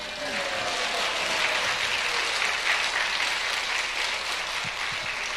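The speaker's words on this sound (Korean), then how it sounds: "우리 통역 너무 잘해서 박수를 주세요." A church congregation applauds the interpreter at a service, a thick continuous clapping that holds at a steady level throughout with no speech over it.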